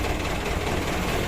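An engine runs loudly and steadily at close range, a dense rumbling drone with a rough knocking texture throughout.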